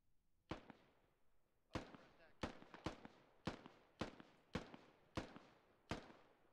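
Distant gunshots in the military shooter game Squad, about eight sharp cracks spaced irregularly across a few seconds, each with a short echoing tail over a quiet background.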